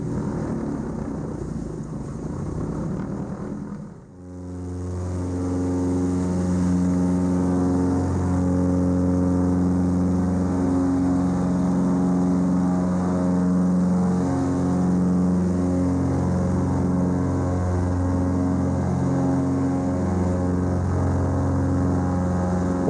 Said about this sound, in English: But if you can get their twin engines started, they make fantastic Alaskan bush planes.